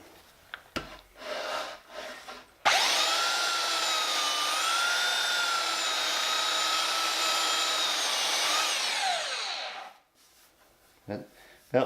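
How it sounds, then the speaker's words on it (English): A belt sander grinds along the leading edge of a wooden airplane-shaped shelf in one loud, steady, whirring pass lasting about seven seconds, then winds down. Brief knocks and handling sounds come before and after the run. "That belt sander really can be aggressive."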